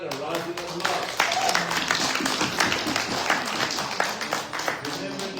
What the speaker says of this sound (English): give the whole clan a rousing applause.